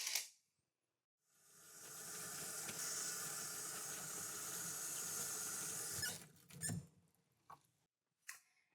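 Water runs steadily from a tap into a sink as hands are washed by a nursing assistant, a continuous hiss lasting about five seconds before it stops and a few wet splashes and drips follow.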